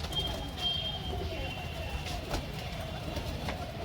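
Pigeons coo softly at a loft, faint repeated calls over a low background hum with a few sharp clicks.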